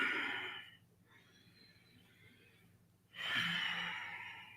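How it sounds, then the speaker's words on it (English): A person exhaling during a beginner yoga class, two long soft breathy sighs, close and fairly quiet, separated by a pause with faint background hum, no talking. "Exhale."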